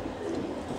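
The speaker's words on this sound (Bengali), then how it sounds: "এটা হলো চুইঠাল গলা কষা কবুতর" A pair of Chuithal pigeons coos softly at close range, giving a low, continuous murmur in a quiet setting.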